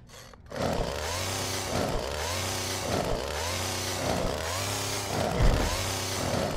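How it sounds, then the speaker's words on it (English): A chainsaw in the video game URGE revs continuously and loudly, its motor rising and falling in a steady repeating pattern of surges after a brief quiet start. "You don't have to cut me with a chainsaw anymore."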